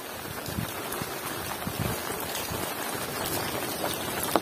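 Steady rain falls over a Sundanese village, a dense, even patter of drops on surfaces, close and continuous with no voices.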